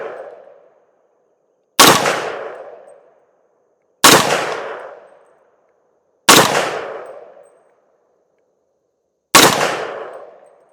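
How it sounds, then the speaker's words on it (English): Outdoors at a range, a PSA PA-15 rifle chambered in 300 Blackout fires four loud, sharp shots spaced a couple of seconds apart, each with a decaying ringing tail, with no talk. "Now let's see if I can hold this thing still and get some decent shots."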